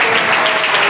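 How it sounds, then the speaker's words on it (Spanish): Dense, loud applause from a church congregation at a deliverance seminar in Freehold, New Jersey, heard as a brief continuous burst of clapping for about a second. "un aplauso a Jesucristo, por su vida."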